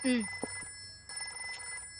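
A phone rings indoors during a family meal at home in a dramatic film scene: a steady, sustained electronic ringing tone held through the clip, with a brief voice-like sound at the start.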